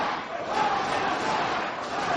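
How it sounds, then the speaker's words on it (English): Arena crowd at a Ring of Honor wrestling match, Homicide vs Necro Butcher, roaring steadily and loudly throughout, a dense continuous wall of cheering voices with no breaks. "Listen to the crowd behind Homicide."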